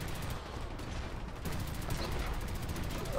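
Mounted gun firing in the video game Dirty Bomb, a steady, loud stream of rapid automatic shots with mechanical clatter, continuing without pause through the whole stretch.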